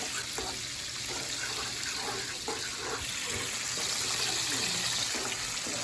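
Tap water runs steadily into a kitchen sink while frying chicken, draining milk out, a continuous near gush with faint background voices.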